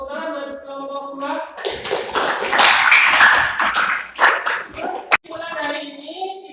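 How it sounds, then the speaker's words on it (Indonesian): Classroom applause for a student group: a burst of many hands clapping at once, loud and dense for about three seconds, with a teacher's voice speaking just before and after. "Tepuk tangan buat kelompok 2."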